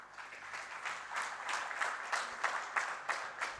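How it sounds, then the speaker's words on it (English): An audience claps in sustained, energetic applause at an installation ceremony, with dense, even clapping throughout and no voices over it. "thank you all for this loud applaud"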